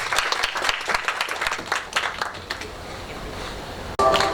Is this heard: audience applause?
yes